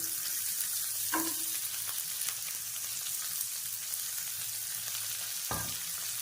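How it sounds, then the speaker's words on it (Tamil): Shallots and garlic fry in hot oil, giving a steady, close sizzle with a couple of sharp clinks from stirring and no talking. "இப்போ ரெண்டையும் சேர்த்து வதக்கிக்கணும்"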